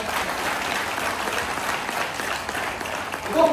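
An audience applauds a speaker at a motivational talk: a dense, steady wash of many hands clapping together, holding even for several seconds and swelling slightly near the end, with no voices over it.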